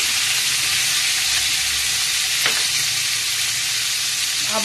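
Butter goes into hot oil in a pan for chicken biryani, giving a steady, even sizzle and hiss that carries on throughout with no voices.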